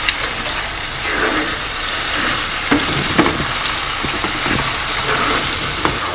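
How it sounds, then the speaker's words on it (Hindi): Chicken changezi gravy frying in a pan while being stirred, a loud continuous sizzle with scraping strokes of the spoon breaking through, steady throughout and close up, without speech. "इसको भून रहे हैं।"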